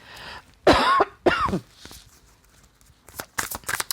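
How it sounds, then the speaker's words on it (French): A man lets out a couple of short, dry coughs and clears his throat, heard close by. Faint rustling follows, then softer, choppy sounds. "Excusez-moi de tousser."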